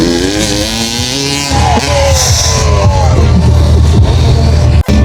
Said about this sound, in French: Il y a des concours de moto là, ils vont sauter sur le tremplin.